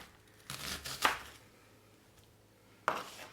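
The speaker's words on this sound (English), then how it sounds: "So we're just going to get this onion sliced up." Knife rough-chopping an onion on a cutting board: a few separate cuts landing close by, with quiet gaps between them and no talk.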